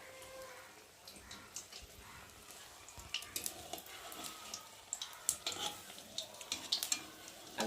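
Onion fritters frying in hot oil, a faint, steady sizzle with scattered crackles and pops that grow busier toward the end, with no talking.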